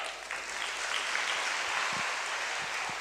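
A fifty-year-old man claps his hands outdoors in a steady, dense patter that fills the whole stretch at moderate loudness, with no talking over it.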